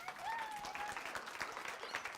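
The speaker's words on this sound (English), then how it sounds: "Give her a round of applause." An audience at a comedy magic show gives a round of applause for a volunteer, a steady, moderately quiet wash of clapping with a faint voice or tone briefly over it.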